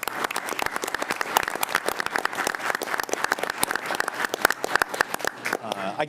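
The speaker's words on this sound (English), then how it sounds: "Before I sit down, if we could just offer a round of applause to Mr. Angelini and Ms. Lopez." Audience applause at a board of education meeting, a room full of people clapping with many distinct sharp claps for about six seconds before it cuts off.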